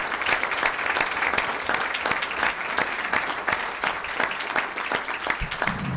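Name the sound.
applause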